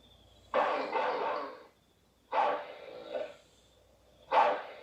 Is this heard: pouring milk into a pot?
no